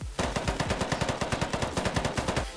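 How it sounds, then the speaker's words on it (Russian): AK-47 gunfire from the video game Polygon rings out in one rapid, continuous automatic burst of evenly spaced sharp shots, loud and close, with no talking. "Добавлены новые улучшенные звуки стрельбы из"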